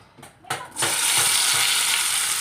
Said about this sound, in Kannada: ಇವಾಗ ಇವನ್ನೆಲ್ಲ ಮಿಕ್ಸ್ ಮಾಡಿಕೊಂಡು ಫ್ರೈ ಮಾಡ್ಕೊಳ್ತೇನೆ